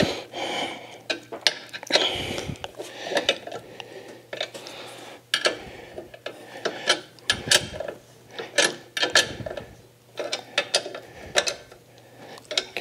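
A 15mm wrench tightens brake line fittings on a GBody Chevrolet Monte Carlo SS fitted with electric brakes, giving close metallic clicks, scrapes and clanks in irregular bursts with short pauses between them.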